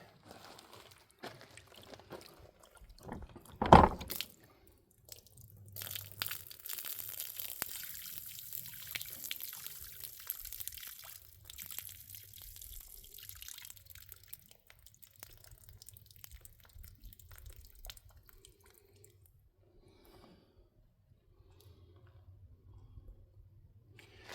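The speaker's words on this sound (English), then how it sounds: "get some fresh water in the pan to wash out the dirty water" A brief thump, then fresh water pours and splashes into a gold pan for several seconds before thinning to faint trickles and drips.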